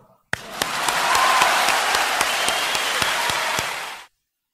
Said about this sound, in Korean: 천보 등재되신 가정들에게 진심으로 축하의 박수를